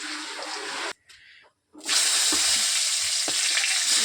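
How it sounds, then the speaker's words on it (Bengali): Prawns and cabbage frying in a pan with cumin seeds, dried chilli and bay leaf, a loud steady hiss that cuts out briefly near the start, then returns full with a few stirring knocks. "চলো ভাজা ভাজা করে নিই এটা।"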